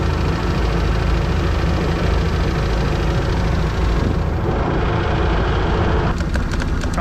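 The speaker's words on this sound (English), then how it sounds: "I think it's idling too high." A Raven 195 boat engine idling a little too high, a steady, dense rumble that holds evenly for several seconds with no voices over it.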